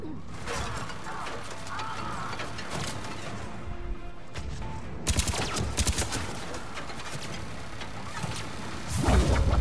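Turret gunfire in the video game Mass Effect 3, bursts of rapid shots and impacts mixed with game effects, coming in clusters over a busy combat background.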